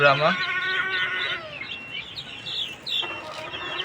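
Colombian Light chickens, two roosters and four hens, cluck and squawk in sharp, high bursts nearby, one loud run of calls opening and another near the end, while someone talks.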